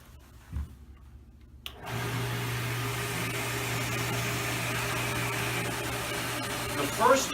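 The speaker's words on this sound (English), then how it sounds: "So let me start the test bench." After a quiet start with a faint knock, a water valve test bench switches on and settles into a steady, even motorized hum with rushing flow noise that holds to the end.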